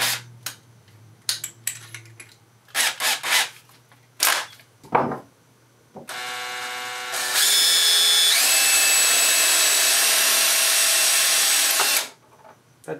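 A power drill with a 3/8 inch bit drills a hole for a lamp build, starting after several sharp knocks and handling clatter, then running as a loud steady whirr that climbs in pitch before stopping abruptly.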